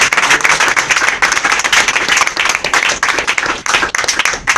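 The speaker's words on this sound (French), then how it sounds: "Applaudissez à Dieu." A church congregation breaks into loud, vigorous applause, dense clapping from many hands filling the space continuously and close up, with no voices standing out.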